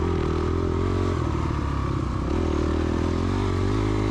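Dirt bike engine revving high in second gear during a woods race, a loud, close, continuous buzzing drone that wavers in pitch as the throttle changes, with a faint clatter of the bike over the trail.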